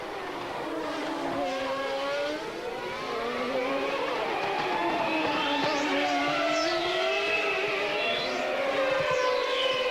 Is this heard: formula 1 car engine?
yes